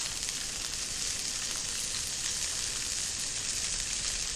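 Large butterflied chicken breast pieces seasoned with salt and pepper frying in a pan on medium-high heat, a loud, steady, dense sizzle that continues without break.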